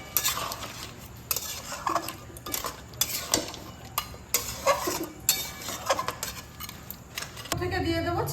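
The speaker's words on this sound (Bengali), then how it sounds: "এবার আমি এর উপর দিয়ে দেবো একটু গরম মশলা, মিশিয়ে দেবো গরম মশলাটা।" A spoon scrapes and clinks against a pan as garam masala is mixed into Bengali crab kosha, with rhythmic stirring strokes and a faint sizzle underneath.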